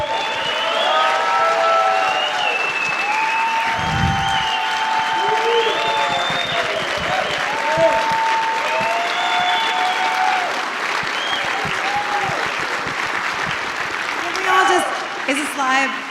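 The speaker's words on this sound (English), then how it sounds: "So can we get a round of applause," An audience applauds at a conference's closing remarks, a sustained wash of clapping running steadily throughout, with voices and a brief cheer rising near the end.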